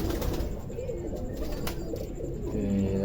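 Caged pigeons coo softly in low, repeated murmurs under a steady, noisy background, with a few faint chirps and brief clicks.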